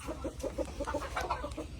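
Native Daraga hen clucking from a backyard nest box, a quick run of soft, repeated low clucks close by over a dull background rumble.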